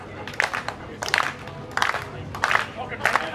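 Studio audience and hosts clap together in a slow, building rhythm of bursts on a radio show during a backyard cricket segment, with talking between the rounds of clapping.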